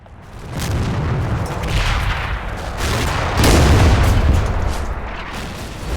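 Repeated mortar shell explosions pound a position in the World War II wargame Combat Mission Final Blitzkrieg near Aachen, a dense, continuous barrage of booms and bursts with sharp peaks, loud and rolling for several seconds.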